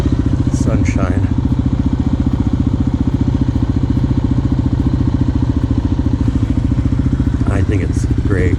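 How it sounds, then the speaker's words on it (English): Motorcycles idle and run steadily close by during a warm-up, their low engine drone continuous throughout, with voices talking over it. "The bikes are running good."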